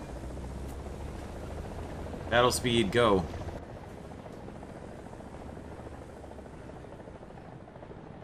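A friendly helicopter in War Thunder gives a steady low rotor drone with a faint whine, at moderate distance and constant throughout, while a voice briefly speaks over it partway through.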